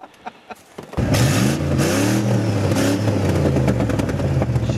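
After a few light clicks, an engine roars into a sustained loud rev with rising and falling pitch, staying close and strong to the end.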